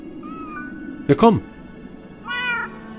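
In the hidden-object adventure game Mystery Trackers: Raincliff, a kitten meows loudly and briefly up close, while someone speaks over faint tonal game sounds.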